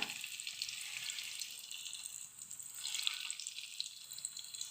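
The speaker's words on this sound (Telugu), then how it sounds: "వేడైపోయింది ఇప్పుడు ఒకటి ఒకటి కట్లెట్ అన్నీ ఇందులో పెట్టుకోవాలి" Fish cutlets fry in hot oil in a pan over a medium flame, giving a steady, soft hiss of sizzling that holds throughout, with no talking.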